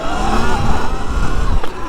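A Sur Ron electric dirt bike pulls a short power wheelie, its motor whine and knobby tyres rising over steady wind rush on a dirt track, loud and close for about two seconds.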